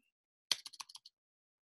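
A short burst of computer keyboard typing while a name is entered into a box: about half a dozen quick, crisp key clicks in a rapid run, close and fairly quiet, with silence before and after.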